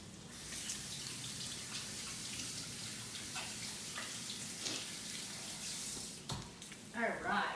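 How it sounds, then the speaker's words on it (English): Tap water runs steadily over hands being rinsed, a close, continuous splashing hiss that shifts briefly near the end with small clatters. "I'm going to rinse my hands real quick"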